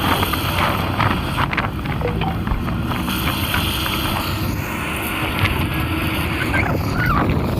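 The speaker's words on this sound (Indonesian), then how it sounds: "Ini angin sudah mulai kencang guys ya." Strong wind at the Merak–Bakauheni crossing buffets the microphone in a steady, roaring rush, with low rumbling noise throughout, like being out on open water.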